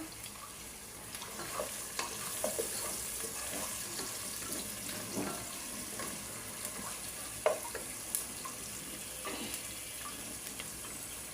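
Bay leaves and sugar frying in oil in a pan for chicken roast, a soft steady sizzle with occasional clicks and light clatter, fairly quiet and without speech.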